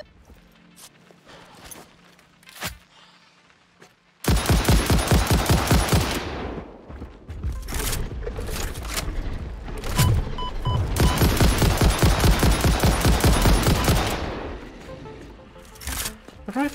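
Rifle gunfire in the video game Satisfactory, long stretches of loud rapid repeated shots after a quiet opening with a few isolated bangs, the firing stopping and restarting in bursts.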